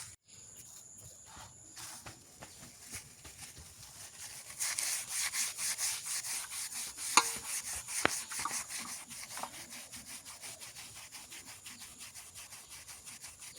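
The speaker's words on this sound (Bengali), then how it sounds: "লবণ দিয়ে ঘষলে উঠে দেবো" Salt is scrubbed against the skin of a magur catfish by hand, a continuous gritty rubbing in quick repeated strokes that grows louder partway through, close by.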